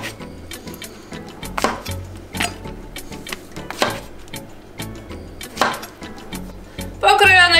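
A knife cuts mushrooms into quarters on a board, with irregular clicking chops spread through the clip and a voice talking over them.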